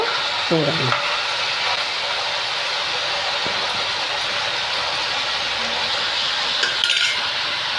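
Snake gourd frying uncovered in a pan for a garlic-chilli dish crackles in a continuous, fairly loud sizzle, with a few scraping stirs early on and again near the end.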